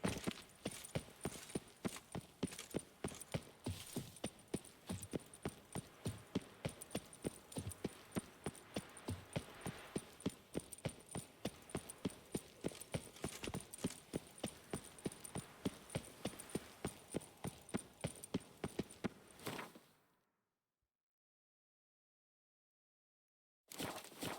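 Horse hooves galloping in The Witcher 3 video game, a fast, steady clip-clop rhythm lasting about twenty seconds before a sudden silence, with no talk over it.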